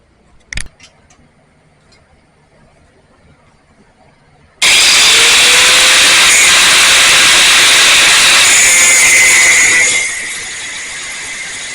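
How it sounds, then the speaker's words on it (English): A power grinder is used on a car build. After a quiet stretch with one sharp knock, it starts abruptly into a loud, harsh, sustained whine and hiss that lasts several seconds before it eases to a lower, steady drone. "I'm going to have to get the grinder out"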